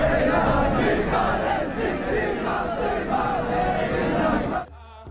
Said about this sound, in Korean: 수백 명의 이스라엘인들이 춤을 추며 환호합니다.